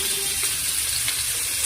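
Chopped vegetables frying in a pan for Indian-style pasta: a steady, close hiss and sizzle running throughout, with no talking.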